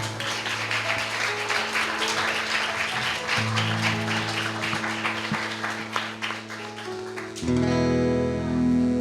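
A congregation applauds during a church worship service, with dense, steady clapping over sustained keyboard tones that swells louder near the end.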